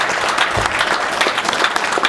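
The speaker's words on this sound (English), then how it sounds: "Big round of applause" Applause at a powerlifting competition, a moderate crowd clapping steadily and evenly for about two seconds in a large room.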